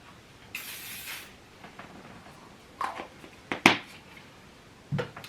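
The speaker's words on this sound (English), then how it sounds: "I'm like spraying them into the curl position." Hairspray misted onto curled hair, a sharp hissing spray burst followed by several shorter puffs amid quiet handling noise, no talking.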